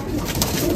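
A pure white golden pigeon, a Pakistani Kamagar breed, coos softly at close range in a short low murmur against a steady background hiss, with no talking.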